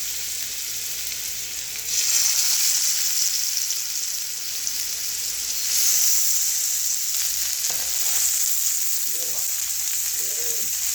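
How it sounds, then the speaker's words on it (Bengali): Pieces of rui fish sizzle steadily in hot oil in a pan, a close, continuous hiss with a few soft scraping stirs toward the end. "আমি এখন মাছ ভাজার জন্য দিয়ে দিচ্ছি।"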